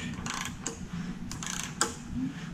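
An engine is turned over by hand during a flat-tappet to roller camshaft conversion, giving a few faint, scattered mechanical clicks and ratchet ticks over quiet shop background.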